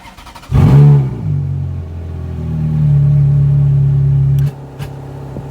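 A parked car's engine cranks and catches, then revs up and holds a loud, steady rumble for several seconds before being switched off abruptly, leaving faint ambient noise.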